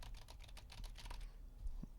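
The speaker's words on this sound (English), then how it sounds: "I'm going to type while I talk and talk while I type." Typing on a computer keyboard picked up off-axis by a Music Villa MV-3 dynamic microphone: a faint, rapid patter of key clicks for over a second, then a pause with a single low thump, no speech.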